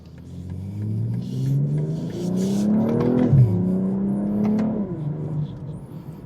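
A 2025 BMW M240i xDrive engine revs hard through the gears, pitch climbing, dropping at a shift, then climbing again, loud and close with a throaty roar.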